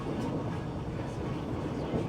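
A passenger train riding on rails in Malaysia gives a continuous, even rumble and rattle throughout, fairly loud and steady, heard from inside the carriage.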